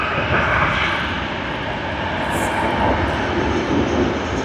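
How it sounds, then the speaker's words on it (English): An airliner departing Sydney Airport for Melbourne thunders with loud, sustained jet engine roar, a dense broadband rumble holding steady throughout. "we do have another departure. Sydney to Melbourne service."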